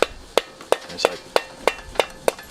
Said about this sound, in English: tap that on, I'm using this dead blow hammer